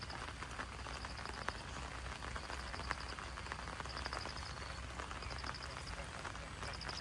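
Steady heavy rain falling through the night onto a flooded rural plot in Thailand, a dense continuous hiss with scattered drip patter and faint chirping above it, loud and unbroken throughout.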